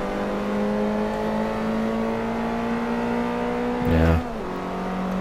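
Race car engine in Forza Motorsport 3 holding a steady drone through most of the stretch, then briefly rising in a louder rev burst near the end before settling back to a steady hum.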